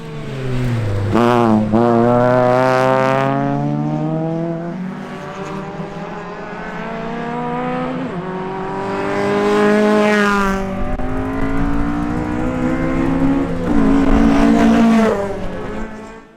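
A small Mazda MX-5 rally car runs a stage at Nutts Corner, its engine loud and close, revving hard up and down through the gears with sharp rising pitch sweeps and a brief lift between.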